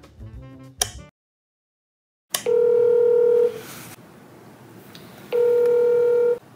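A short burst of dialing tones, a pause, then two long electronic ringback tones spaced apart, the call ringing with no answer.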